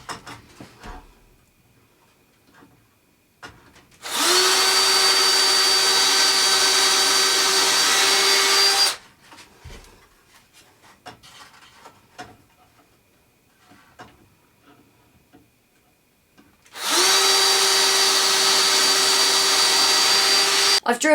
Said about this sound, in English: I've drilled 2 holes for 2 screws because I want it to be held together properly